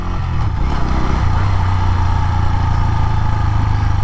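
A Bajaj Pulsar N125 motorcycle engine runs steady and close after the throttle is let go, settling into an even, continuous low idle with no voices.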